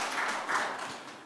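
Soft, distant audience clapping at a policy forum as a speaker is welcomed, fairly faint and thinning out quickly.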